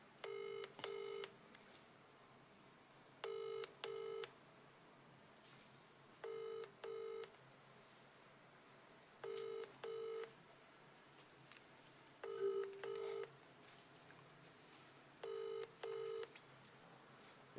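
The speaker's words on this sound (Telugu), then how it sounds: "ఫోన్ ఎత్తాడే మల్లారెడ్డి గారు" A telephone ringback tone sounds in regular paired bursts, repeating six times with quiet pauses between, thin and electronic over faint background hiss.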